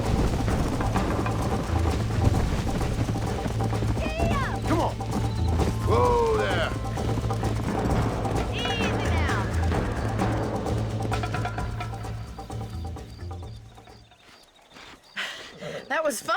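Horse hooves clop rapidly in a galloping rhythm in the Western video game Red Dead Redemption, set under a constant rumble of game sound, with a rider's voice calling out over it and the hoofbeats fading near the end.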